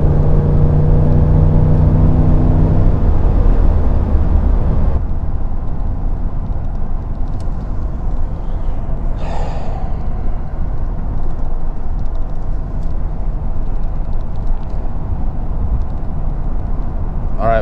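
A Ford F150 pickup truck climbing a hill while running on an empty fuel tank, with a steady, loud engine drone and road rumble throughout, and a brief higher whine partway through.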